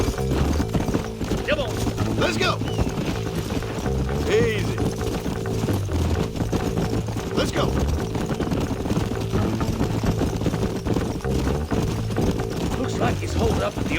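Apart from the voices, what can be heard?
horse hooves in video game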